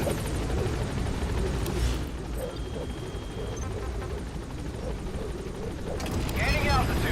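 A helicopter lifting off in Metal Gear Solid V: The Phantom Pain, a loud steady rotor roar filling the whole stretch, with a brief change in the engine sound near the end.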